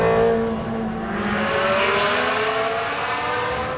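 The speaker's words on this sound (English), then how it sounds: "you end up revving it just for fun" A Ferrari Stradale race-car engine revs hard and loud up close, a sustained rising and falling roar with no voices over it.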